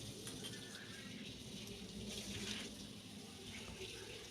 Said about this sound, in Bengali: একদমই ওপরে নিয়ে বেসিংয়ে নিয়ে দাঁড়িয়ে পড়েছি, ওইখানেই ধুয়ে মেজে পরিষ্কার করে নিয়েছি